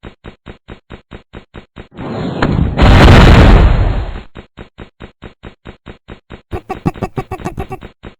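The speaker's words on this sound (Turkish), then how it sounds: "At roket. Roketler de iyi gümlüyor." Rocket blast in a road combat video game: a loud, booming detonation with a long rumbling tail, sandwiched between rapid rhythmic bursts of machine-gun fire before and after.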